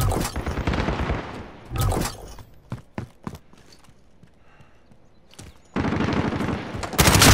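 Rapid automatic gunfire from a Call of Duty Modern Warfare gun game match, with loud bursts at the start and end separated by sparse single shots and quiet gaps.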